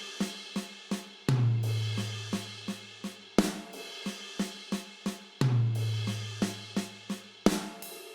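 A hands-only six stroke roll fill moves between snare and rack tom on a drum kit. Crisp, close snare taps run in quick groups, broken each bar by a booming, ringing tom hit.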